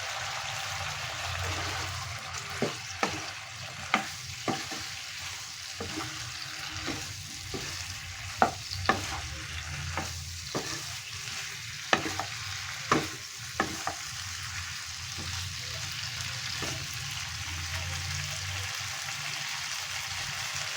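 Cauliflower florets and potato pieces fry in hot oil in a pan, a steady close sizzle broken by repeated sharp clicks and knocks of a spatula being stirred, with no voices.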